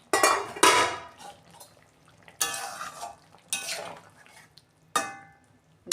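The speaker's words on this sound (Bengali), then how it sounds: "ঢাকনা খুলছি।" Metal pot lid lifted off a simmering mixed-vegetable curry, giving a few separate clanks and clinks of metal on cookware, with quiet gaps between them and no talk.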